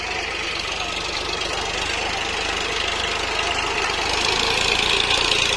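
Eicher 551 and Mahindra 575 tractor engines labor loudly together during a tug-of-war with a rough, knocking diesel chug that builds slightly toward the end, while voices are faintly heard underneath.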